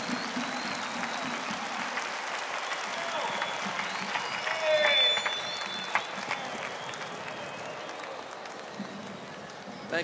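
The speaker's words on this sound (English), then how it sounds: "Let's give him another round of applause." A crowd at the 1972 Wattstax live festival applauds in a standing ovation, a broad, fairly distant roar of clapping and crowd noise with voices mixed in, swelling briefly midway.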